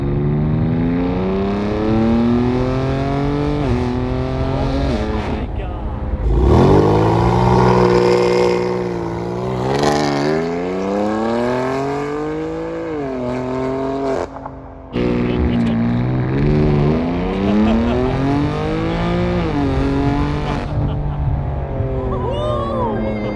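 A BMW G80 M3 Competition fitted with an iPE exhaust revs hard, rising and falling through repeated climbs with a raspy, loud tone, captured close and continuously throughout, without speech.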